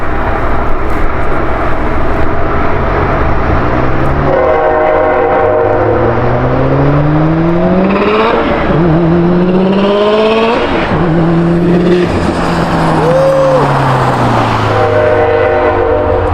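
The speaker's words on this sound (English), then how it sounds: "And there's a train." A train rumbles past loudly and steadily while its horn sounds in long, sliding blasts, the pitch dropping as it goes by.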